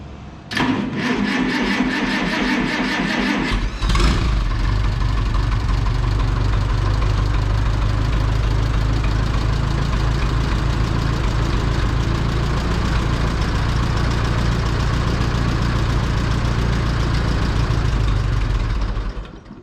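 An Oliver Super tractor engine cranks with rapid chugging, then catches and runs loud and steady at a rough idle for the rest, close by, before cutting out at the end.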